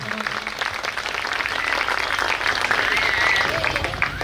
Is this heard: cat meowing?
no